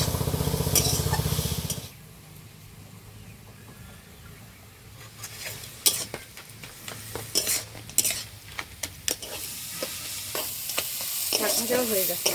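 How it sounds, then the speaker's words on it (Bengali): Greens stir-fried with broken crab legs and crab in a pan: a loud opening burst, then a constant sizzle with frequent scraping and clattering of a spatula against the pan, close up. "কাঁকড়ার ঠ্যাং আর একটা কাঁকড়া ভেঙে চুড়ে দিয়ে শাকটা ভাজা করবো।"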